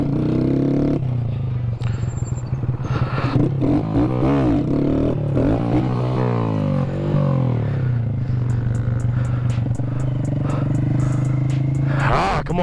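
A Honda Grom motorcycle revs hard for a wheelie: close, loud engine roar with rising and falling pitch sweeps, then a steadier drone, while people talk and shout over it.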